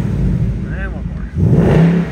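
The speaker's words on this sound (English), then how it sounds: "Now let's give a couple revs for you guys." A 2021 Ford Mustang GT Performance Pack convertible with a 5.0L 460hp V8 and the exhaust open revs twice in quick blips, loud and close, the second rev lower and throatier, with a voice briefly overlapping.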